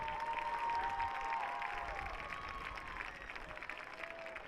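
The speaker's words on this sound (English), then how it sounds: "let's have a nice round of applause for all these lovely ladies and their escorts." Faint, distant crowd applause at a Mount Carmel Area varsity football homecoming, honoring the homecoming ladies and their escorts, a steady wash of clapping with some cheering and a sustained tone running underneath.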